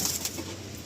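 Teddy pigeons in a loft give a short, faint coo over low background noise.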